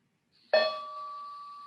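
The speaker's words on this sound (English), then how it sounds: "In a moment, I'll strike the bell." A single meditation bell struck once during a Zen centre sitting session, a clear bright strike followed by a pure ringing tone that sustains and slowly fades in an otherwise silent room.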